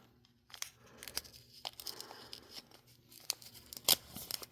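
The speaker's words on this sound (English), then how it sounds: "Nope, it's going to just keep on ripping." Lego Bionicle packaging being torn open by hand, with quiet crinkles and several sharp ripping bursts close up, the loudest near the end.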